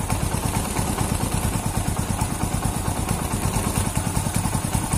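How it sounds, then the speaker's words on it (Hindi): A Hero Splendor Plus motorcycle engine idles close by while the carburettor air mixture screw is slowly opened, giving an even, continuous thrumming putter with no talking. "आप देख सकते हैं, सुन सकते हैं कि आरपीएम बढ़ रहा है धीरे धीरे।"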